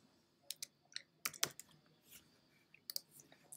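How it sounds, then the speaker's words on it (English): Typing on a computer keyboard: a handful of quiet, sparse key clicks close by in a hushed room. "I'm going to type in the word Thinking."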